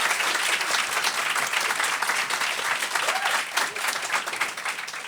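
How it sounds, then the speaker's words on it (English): An audience at a Fringe festival awards event applauds with sustained, dense clapping that stays loud and steady throughout. "So let's have a round of applause for that."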